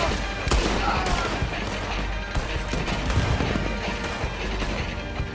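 Dense, rapid gunfire crackles through a noisy action scene in the video game Red Dead Redemption 2, bursts overlapping with crashes and a shout or two under the din.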